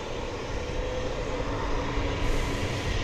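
A jet airliner taxiing at DFW Airport gives off a steady, broad engine roar with a low rumble underneath. It holds fairly constant throughout and rises slightly near the end, with no voices.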